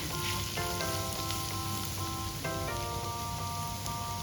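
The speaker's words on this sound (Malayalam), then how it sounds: "ഇതിലേക്ക് 1 കപ്പ് ചുവന്നുള്ളി അരിഞ്ഞെടുത്തതാണ് ചേർത്ത് നന്നായിട്ടൊന്ന് വഴറ്റണം" Chopped red shallots sauté in hot oil in a pan for Kerala beef ularthu, giving a steady, even sizzle throughout, with faint tonal sounds in the background.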